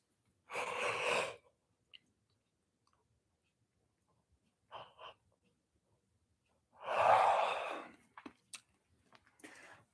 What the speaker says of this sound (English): One more big yawn to finish.